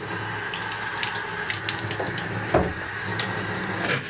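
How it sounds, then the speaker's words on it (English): A faucet runs steadily into a sink while waiting for the water to turn hot, a close, even rush of flowing water with a small splash partway through and no talk. "let me let this run so I get some hot water"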